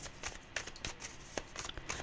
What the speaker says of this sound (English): While I'm shuffling that deck